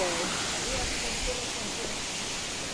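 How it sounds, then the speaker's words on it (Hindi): Continuous hiss and rumble of water falling at Chirchiri waterfall, Jashpur, Chhattisgarh, an even wash of noise with faint voices buried in the background. "पानी नीचे की ओर जाती हुई"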